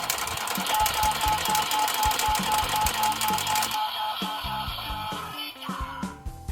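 A Sentai Gear candy toy's rolling team-name effect: a rapid mechanical rattling clatter runs throughout with a steady electronic tone above it, changing character partway through, loud and close, with no talking.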